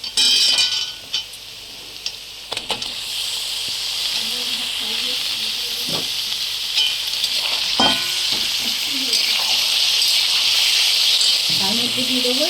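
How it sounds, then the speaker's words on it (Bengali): Chicken frying with browned onions in a pan gives a steady loud sizzle and hiss throughout, broken by occasional scrapes and clatters of stirring, with a voice speaking briefly over it. "পেঁয়াজগুলো হালকা লালচে করে ভাজা হয়ে গেছে, এবার এর মধ্যে দিয়ে দেবো চিকেনগুলো।"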